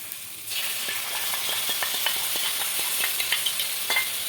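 Spice paste for a fish-head kalia sizzles steadily in a pan while a spatula scrapes and stirs it in quick, repeated strokes, close and fairly quiet, with no talking.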